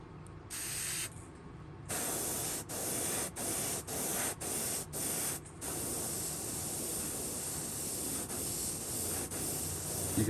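Broadband hiss of an aerosol spray can painting a fishing lure over a stencil, released in a run of short bursts and then a longer steady stream, close by with no talking.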